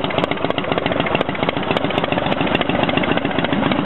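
A rebuilt motorcycle engine idles steadily with a loud, close, rapid putter as the choke is pushed in, no voices over it.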